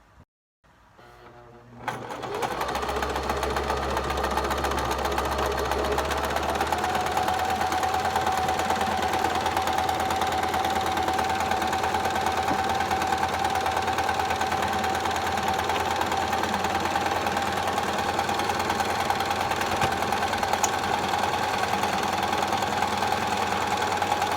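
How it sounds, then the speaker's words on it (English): A sewing machine runs steadily for over twenty seconds, stitching together face mask fabric pieces, with a continuous loud mechanical whir and rattle that starts after a brief pause. "then you make sure everything is pinned down nice and flat, and then you sew this part together"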